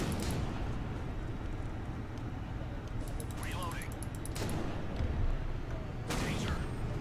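Tank cannon fire and shell hits in Tokyo Warfare Turbo, a steady rumble of engine and combat noise with several sharp blasts and impacts, the loudest near the start, middle and end.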